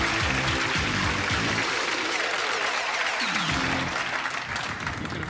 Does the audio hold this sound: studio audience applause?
yes